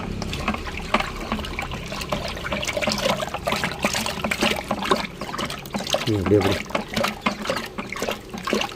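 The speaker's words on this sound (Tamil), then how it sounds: "இந்த எண்ணெய் கரைப்பானை வந்து உள்ளே ஊற்றி நல்லா கலக்கிக்கணும்" Oil solvent liquid is poured into a container and stirred, a continuous wet trickling and sloshing sound running throughout at moderate loudness.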